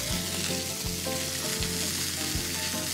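Sliced mushrooms frying in a little oil in a hot pan, a steady close sizzle with periodic stirring scrapes every second or so, no voices.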